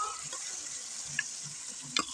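Marinated chicken frying with browned onions in a pan for biryani, a faint, quiet sizzle with a few soft clinks and scrapes of a spoon, heard alone.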